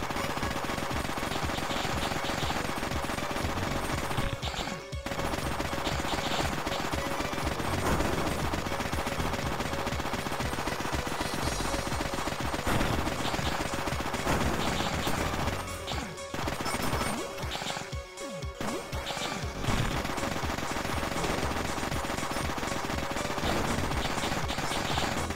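Chain gun fire in the video game Shakedown Hawaii: a loud, continuous rapid stream of shots mixed with crashes and impacts, dense and relentless with only brief dips.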